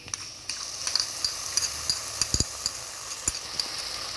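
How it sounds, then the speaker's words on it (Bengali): Onions frying in a pan with ginger, garlic and green chili paste give off a continuous close sizzle, punctuated by sharp clicks and scrapes of a spatula stirring. "এখানে আমার পেঁয়াজ হালকা ভাজা হয়ে গেছে"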